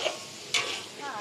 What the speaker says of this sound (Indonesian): Kita orang tengah gorengkan daging jap.